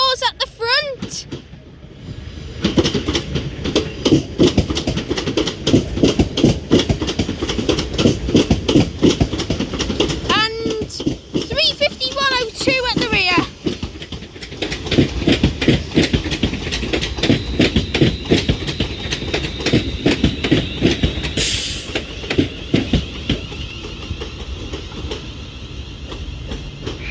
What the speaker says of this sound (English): Train number 404 and 350-102 arriving to Crewe now